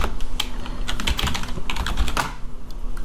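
Rapid clicking of a computer keyboard as an Excel formula is typed, a dense run of close, crisp keystrokes in uneven bursts with no talk.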